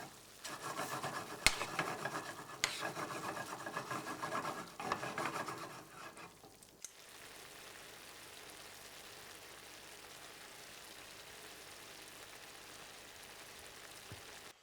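Shrimp scampi pasta sauce simmering in a pan with extra virgin olive oil, scraped and stirred with rough rasping strokes for several seconds before settling into a quieter, steady low bubbling sizzle.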